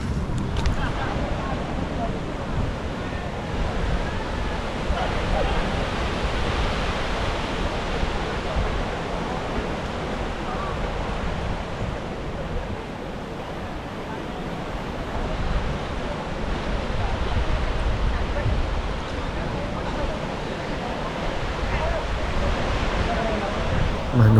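Indian Ocean surf rolls in at Balangan Beach in Bali, a continuous broad wash of breaking waves mixed with wind noise, steady and fairly loud across the whole stretch.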